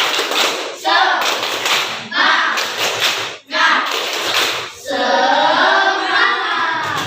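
A classroom of children does a rhythmic spirit clap led by their teacher. The hands beat in patterned bursts separated by short pauses, loud and close, with the children chanting along.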